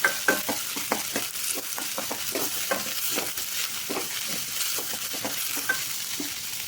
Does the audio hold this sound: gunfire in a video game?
no